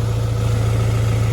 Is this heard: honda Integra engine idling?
yes